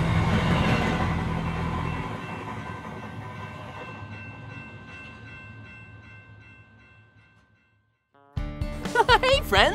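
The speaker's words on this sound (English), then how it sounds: "It's rolling on the tracks, gonna get there fast. Yeah, choo-choo, here comes a train." A train rolls along the tracks in a children's song, a loud rumble with horn-like tones that fades out gradually, then music with singing voices starts.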